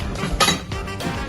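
A plate is handled, giving a few quick light clinks of dishware spaced across a second or so, close by and with no voices.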